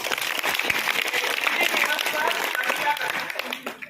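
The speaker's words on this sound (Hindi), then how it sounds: "ताली बजा दो।" Children at a Hindi Diwas school celebration clap in a loose, scattered round of applause, close and fairly busy, with voices talking over it.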